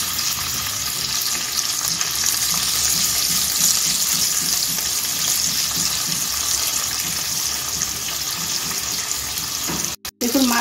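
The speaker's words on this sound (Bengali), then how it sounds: "এখন আমি মাছগুলো অল্প অল্প করে ভেজে নেব" Fish pieces fry a few at a time in hot white oil in a nonstick wok. A loud, steady sizzle runs through the whole clip and cuts out briefly near the end.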